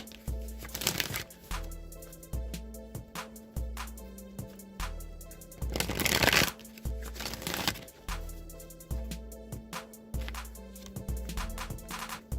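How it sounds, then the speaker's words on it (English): An oracle card deck is shuffled a few times, giving several soft riffling bursts over steady background music. "I'm going to shuffle the wisdom of the oracle deck now a few times"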